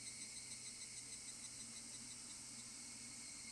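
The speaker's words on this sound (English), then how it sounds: "Only the cry of the cicadas remained annoyingly loud" Cicadas drone in the Higurashi visual novel, a faint, steady, high-pitched shrill buzz that pulses gently and never lets up, quiet and alone with no voices.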